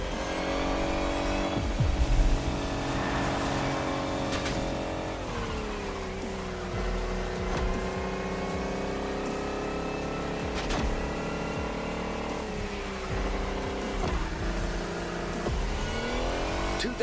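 A race car in The Crew Motorfest accelerates hard, its engine note climbing through repeated gear shifts on a long straight, loud and continuous without talk.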